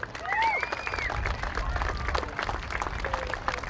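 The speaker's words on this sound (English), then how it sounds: "Big round of applause for our treasurer" Outdoor crowd at a youth baseball opening day clapping and cheering for the league treasurer, steady applause with scattered shouts and a few voices over it.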